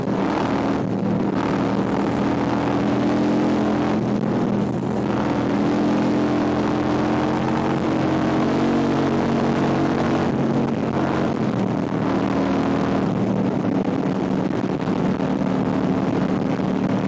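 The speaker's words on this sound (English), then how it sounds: "When I go full throttle." A car at full throttle up a highway on-ramp, a loud continuous engine roar with a droning tone and heavy wind rush, close and sustained throughout.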